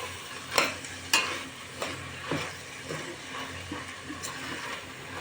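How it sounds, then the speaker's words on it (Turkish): Village lentils are stirred and dry-roasted in a pan, with several quiet scraping strokes over a faint, continuous sizzle close by. "Ve kavurmaya devam ediyorum."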